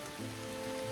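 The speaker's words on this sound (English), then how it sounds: "and now it's raining." Steady rain patters on a surface, a continuous wash of drops with a low droning hum underneath.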